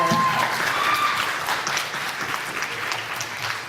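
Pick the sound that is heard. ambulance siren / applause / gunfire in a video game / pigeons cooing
applause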